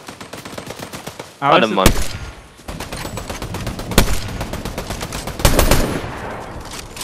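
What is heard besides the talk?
gunfire in the video game Fortnite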